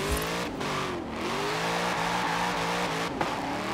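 A mid-engine Chevrolet Corvette C8 drift build in Forza Horizon 4 holds a loud, sustained engine roar. Brief dips mark gear shifts or lifts, and tire squeal rides over the sound, with no voices.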